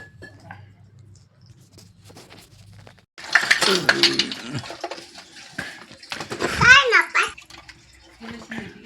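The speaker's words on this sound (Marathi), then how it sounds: "जागो भांडी खेळते." A small child bangs and clinks toy pots and pans in short bursts of clatter close by, while adults and the child chat over the play.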